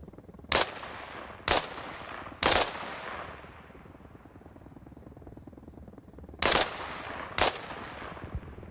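Five sharp, muffled suppressed gunshots in ARMA Reforger, aimed at a helicopter, spaced about a second apart, each a quick thump over a steady hum of background noise.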